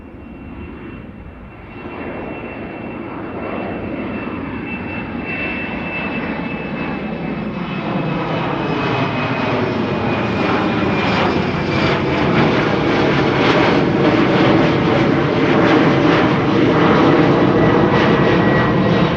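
A KLM Embraer 190 jet taking off from Amsterdam Schiphol Airport, bound for Inverness, builds a broad engine roar with a high whine that swells steadily louder over about twenty seconds.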